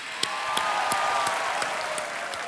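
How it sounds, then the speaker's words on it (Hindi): A studio audience on the Kaun Banega Crorepati game show breaks into steady, even applause, with many hands clapping close together at a consistent level. "तो एक बार फिर तालियों के साथ अभिनंदन"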